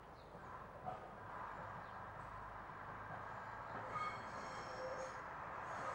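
A train on a UK railway in 1986 rumbles along the track furthest from the camera, a low steady roar with faint metallic wheel squeal, quiet overall.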